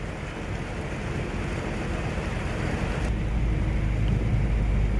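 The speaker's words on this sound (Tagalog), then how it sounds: "tuloy-tuloy ang buhos ng ulan" Steady, dense hiss of heavy rain pouring without a break, loud and continuous, with a low rumble underneath.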